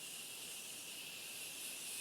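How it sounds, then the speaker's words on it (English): A makeup setting mist sprayed close by in one long, steady hiss lasting about two seconds, bright and airy with no pauses and no talk over it. "I want to add more of this mist."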